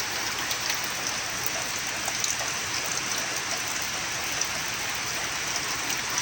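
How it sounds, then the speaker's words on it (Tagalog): Steady rain falls as a constant broadband hiss, with scattered drops pattering on a surface nearby and no voices. "Pero umuulan."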